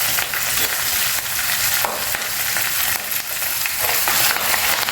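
Curry leaves crackle and sizzle loudly in hot oil for a red chilli chutney, a dense continuous frying hiss with sharp spitting pops throughout, close and alone with no voices.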